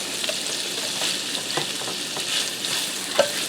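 Diced shallots and blistering tomatoes sizzle in a hot skillet for a cheesy sausage and tomato pasta, a steady close frying hiss with occasional stirring scrapes and light pops, no talking.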